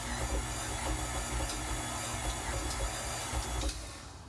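A KitchenAid stand mixer running with the paddle attachment, a steady motor whir with light rhythmic knocking from the bowl, close and continuous with no talking.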